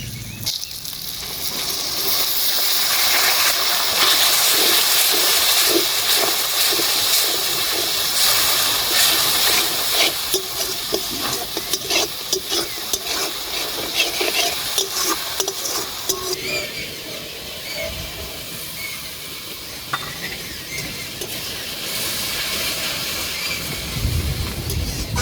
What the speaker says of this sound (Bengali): মশলা ভালো করে কষানো হয়ে গেছে, এবার দিয়ে দেবো পরিমাণ মতো জল।